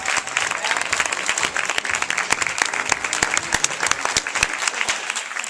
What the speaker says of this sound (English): give them a hand clap